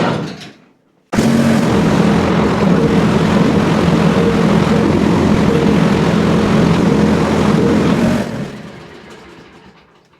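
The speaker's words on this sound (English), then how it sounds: "So the engine is really sounding good." A Scag Liberty Z zero-turn mower engine kicks on abruptly and runs at a loud, steady drone for several seconds without bogging, before winding down and fading out.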